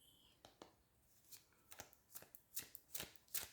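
Sacred Geometry Oracle cards shuffled quietly by hand, giving a series of short, soft riffling bursts that grow slightly louder and more frequent toward the end, alone with no talk.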